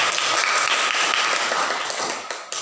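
Classroom applause after a group's discussion presentation in an Indonesian middle school lesson, a brief burst of clapping from students that starts full and thins out toward the end.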